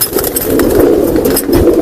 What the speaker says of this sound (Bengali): এই কবুতরগুলো হইতেছে আপনার পুরান জাতের সিলভার কবুতর